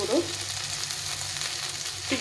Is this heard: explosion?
no